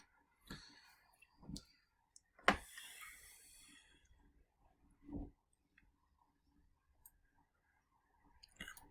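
A few isolated keystrokes on a computer keyboard click sparsely and quietly, spaced a second or more apart against near silence, with no talking.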